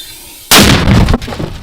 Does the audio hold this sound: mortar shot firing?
yes